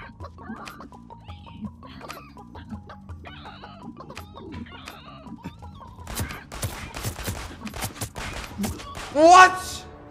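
Chickens cluck in a video game amid rapid bursts of gunfire, and a loud squawk comes near the end. The game sound is close and busy.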